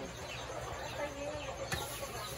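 Faint clucking of a chicken on a farm sits beneath a noisy background, with a sharp knock near the end.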